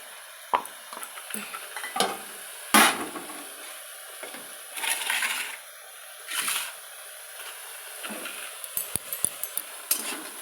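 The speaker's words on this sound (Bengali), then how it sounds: "মশলাটা দেখো ভাজা ভাজা হয়ে আসছে বন্ধুরা" Spice masala frying in a pan, with intermittent stirring scrapes and bursts of sizzling, close and moderately loud, with no talking.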